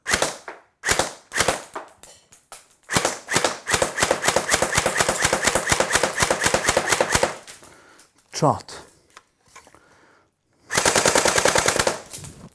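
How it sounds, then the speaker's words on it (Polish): A CYMA CM.022A airsoft AK-47 replica fires loud, close bursts of rapid full-auto shots, including one long burst, with short pauses and a final burst after a silence. "teraz zobaczymy jak ten Uber taktyczny kałach strzela"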